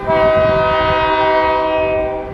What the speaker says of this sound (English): This is the first time I've ever seen a train going across them.